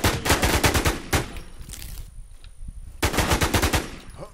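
Rapid machine-gun bursts in a Warzone video game, two loud automatic volleys separated by a quieter pause, fired close up with no talking.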